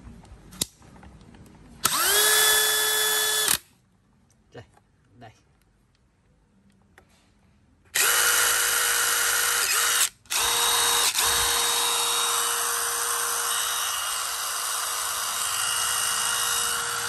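A DeWalt DCD996 cordless drill, US-made, runs in two loud high-pitched bursts: one short run, then a pause with faint sounds, then a longer continuous spin with a brief stop and restart.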